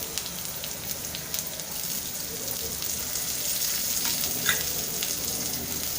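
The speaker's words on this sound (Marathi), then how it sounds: "छान आपण परतून घेऊया कांदा।" Chopped onion and minced garlic sautéing in a pan, a continuous soft sizzle like light rain that stays even and close, with no stirring strokes standing out.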